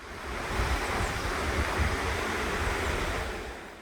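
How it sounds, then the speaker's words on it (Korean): A steady, loud rush of a fast valley stream in a cliff-lined gorge fills the whole stretch, a dense broadband roar close by, with no voices. "계곡 물소리가 얼마나 큰지 제 목소리가 안 들릴 지경입니다."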